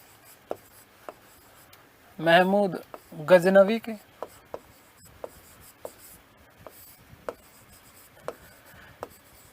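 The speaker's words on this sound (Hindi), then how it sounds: "चलिए मैं लिखता हूं" Chalk or marker scratching across a classroom board during a history lecture, a series of short strokes and taps with two longer writing bursts near the middle, a voice speaking briefly around them.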